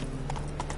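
Horse hooves clop in a quick galloping rhythm in The Witcher video game, steady and close under faint background ambience.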